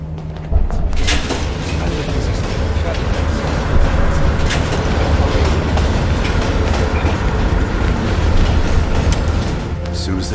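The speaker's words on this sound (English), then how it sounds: "Train's slowing down." A train rolls steadily through a Call of Duty game scene, a loud continuous rumble with rhythmic clatter of wagons, slowing down, with voices talking over it.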